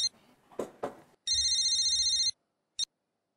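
Telephone bell ringing indoors, one sustained electronic trill lasting about a second and followed by a short second burst, clear and fairly close, with a few thumps before it.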